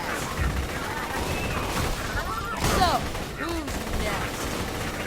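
Rapid bursts of gunfire from the Shredder Fire gun in Borderlands The Handsome Collection, a dense steady fusillade with whooshing game effects, loud and continuous throughout.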